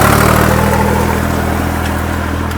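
Tractor engine, a 5620 CRDi or 3630 TX Plus, running steadily at around 1700 rpm in four-wheel drive high range, a loud, continuous low rumble heard close up without talk.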